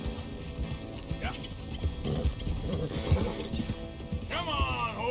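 Horses in the Red Dead Redemption 2 game clop along at a steady pace, hooves beating under a rumble of movement, and one gives a sharp whinny near the end while a voice speaks over them.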